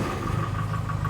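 A 1930s Lancia Aprilia's small V4 engine catching and settling into a rough, low idle, a short close burst of steady mechanical chugging.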